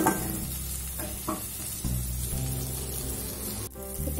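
Tomato and onion sauté in a pan for an elephant yam curry, with a steady close sizzle, a few scraping stirs and a brief pause near the end.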